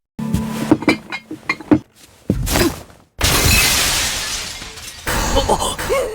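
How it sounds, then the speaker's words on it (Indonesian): A statue falls and shatters on a floor, with a sharp crash followed by several seconds of scattering, tinkling shards and debris, loud and close, after a run of light clinks and knocks. "Noah tiba-tiba meraihnya hingga patung itu terjatuh dan pecah berkeping-keping di lantai."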